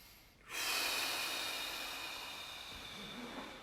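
A long, steady inhaled breath during a guided meditation, breathing in through the pelvic floor, close and soft with a hissing airy quality, starting abruptly and fading slowly over a few seconds.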